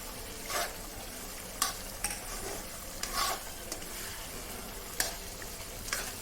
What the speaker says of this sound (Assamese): এয়া ধুনীয়া উতল আহি আছে।